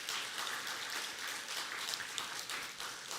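A church congregation gives a warm round of applause, a steady wash of many hands clapping throughout, even and moderately loud with no talking over it.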